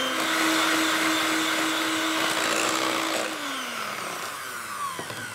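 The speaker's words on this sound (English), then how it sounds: "using an electric beater, it's whipped up into a lovely cream mixture" An electric beater whips egg whites and sugar into a cream mixture, a loud steady motor whine close by that drops in pitch near the end with a light clatter, no talk.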